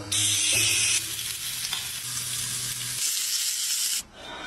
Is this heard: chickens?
no